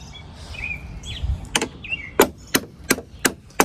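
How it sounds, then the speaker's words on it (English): Sharp metallic taps from a ratchet handle striking a part on a Honda Pioneer side-by-side, six distinct knocks in a loose, speeding rhythm, close and fairly loud against a quiet workshop background. "You can use the handle of the ratchet if you need to. Give it a little tap to get it started."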